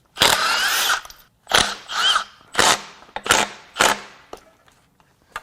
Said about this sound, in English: We'll just start zipping some bolts out.